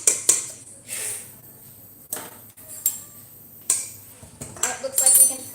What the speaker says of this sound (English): I'm just whisking it up